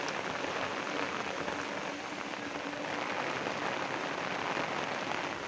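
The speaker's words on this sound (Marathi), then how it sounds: "मजबूत पाणी पडत आहे" Heavy rain pours steadily over a village in Telangana, a dense, continuous hiss of drops hitting surfaces, loud and unbroken throughout with no voices.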